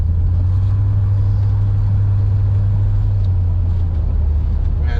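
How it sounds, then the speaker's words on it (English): 1956 Ford Thunderbird driving over road bumps, heard from inside as a steady low engine and road rumble with faint thumps, continuous and fairly loud, no talking. "We'll see how she does over these bumps on this road we're turning on right now."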